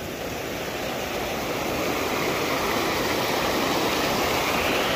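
Waterfall at Cachoeira do Roncador, a constant dense rush of falling water that holds steady and loud throughout, with no voices.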